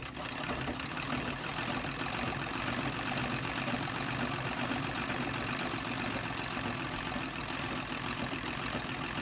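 A sewing machine stitches fabric pieces for gores, a steady, dense mechanical whir and rapid clatter that runs without pause at an even level throughout.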